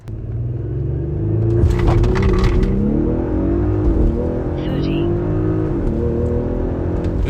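A tuned car with a Stage 1 tune launches hard and accelerates under heavy throttle. The loud engine rises in pitch, then drops through a couple of sharp gear shifts before pulling again, with no voices.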